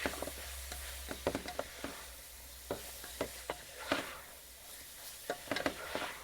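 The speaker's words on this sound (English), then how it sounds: "Give that a stir." Ground beef with chili powder, cumin and garlic powder sizzles softly in a pan as a spoon stirs, quiet frying hiss broken by a series of sharp scraping taps.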